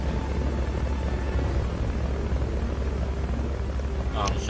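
Helicopter in the video game Metal Gear Solid Peace Walker, a steady low rotor rumble and drone that holds throughout at even loudness, with a brief higher mechanical flutter near the end.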